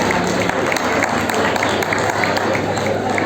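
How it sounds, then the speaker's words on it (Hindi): Audience at an Agrasen family gathering clapping for themselves, a sustained, dense round of applause from a crowd, steady and fairly loud throughout. "एक बार सब अपने लिए तालियां बजा दें।"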